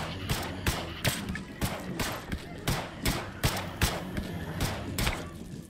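Repeated sharp gunshots from the video game They Are Billions, spaced irregularly about every half second, with faint talking underneath.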